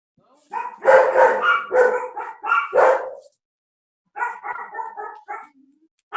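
A dog barks in several loud bursts close to the microphone, coming through an online class call, with a short pause before another run of barks.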